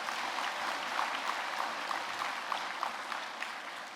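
A church camp congregation applauds a regional choir, an even, fairly soft patter of many hands sustained throughout.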